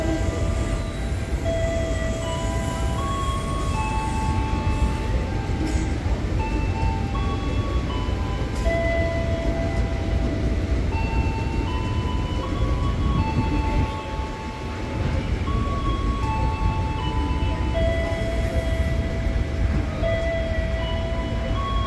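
A JR 205 KRL Commuter Line electric train rumbles through Sudimara station, making a loud, continuous roar with whining motor tones, close by for the whole stretch.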